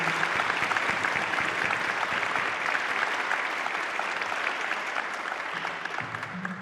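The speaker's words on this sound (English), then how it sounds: "one more round of applause for our students" Sustained applause from a sizeable audience at a community band concert, steady dense clapping that holds for several seconds before easing slightly.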